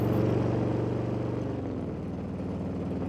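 A 2021 Harley Davidson Road King cruises at highway speed, its engine giving a low, steady, rumbling drone with heavy wind noise throughout and no talking.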